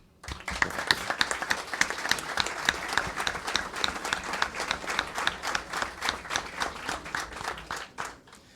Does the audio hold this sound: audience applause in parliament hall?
yes